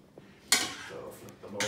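Metal utensils clatter against a pot as seitan steaks are flipped in boiling water, with a few quick close scrapes and knocks over a faint bubbling background.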